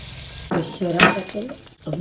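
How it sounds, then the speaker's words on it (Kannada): Spices and curry leaves crackle and sizzle in hot oil as a tempering for appe huli, a steady frying hiss beneath a person speaking nearby. "ಈಗ ಅಪ್ಪೆ ಹುಳಿಗೆ ಅಂತೇಳಿ ಒಗ್ಗರಣೆ ಮಾಡಿದ್ದೀವಿ"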